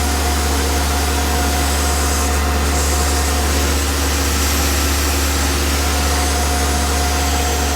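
A CNC mill high-speed machining a slot into a workpiece, giving a loud, steady mechanical whine with a constant hum and dense broadband noise that runs without a break throughout, with no voices.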